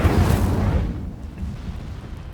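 Incendio fire spell cast in the game Hogwarts Legacy: a loud, dense burst of fiery blast sound at the start that rumbles on and fades over about two seconds.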